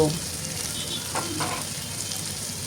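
Onions fry in a pan of hot oil for a free-range chicken and potato curry, giving a short, continuous sizzle broken by a couple of soft stirring scrapes.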